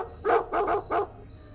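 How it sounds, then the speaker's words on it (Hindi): Three sharp dog barks in quick succession sound as a horror-story effect, set against a quiet night backdrop with a faint thin tone lingering underneath. "बस कभी कभार दूर कुत्तों की भौंकने की आवाज आती थी।"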